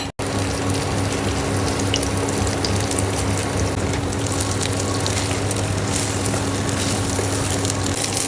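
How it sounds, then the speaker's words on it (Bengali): Banana flower fritters fry in a pan of oil, a close, steady hissing sizzle that stays even and continuous for the whole stretch, with no talking. "এর পরপর আমি সব এভাবে ভেজে নেব সব।"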